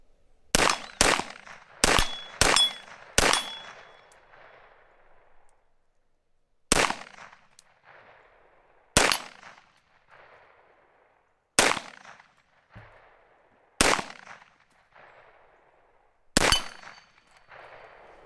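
A Foxtrot Mike FM45 rifle fires sharp, loud single shots outdoors, first a quick string of five, then slower isolated shots spaced a few seconds apart, each followed by a short echoing decay.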